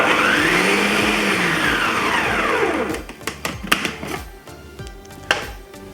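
A blender whirs loudly and steadily while chopping meat and vegetables for meatballs, then switches to short, sharp pulsing bursts that leave the mix coarse.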